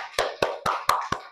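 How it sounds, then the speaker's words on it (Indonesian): A few students clapping for a group in a secondary-school maths classroom, about five sharp, separate claps spaced roughly a quarter second apart, close and moderately loud, with no talking. "Tepuk tangan dulu untuk kelompok"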